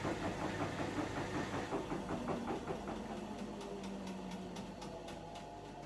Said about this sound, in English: So you can hear the different sounds of the motor.